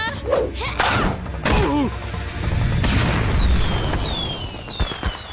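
Large, powerful cartoon fireworks bursting in a rapid series of loud booms, pops and crackles with whistling streaks, close and dense.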